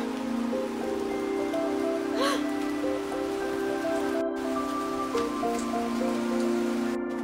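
Steady rain patters down in a continuous hiss, with faint tonal music playing underneath and no voices.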